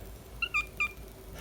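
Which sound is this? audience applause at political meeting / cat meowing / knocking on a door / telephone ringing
cat meowing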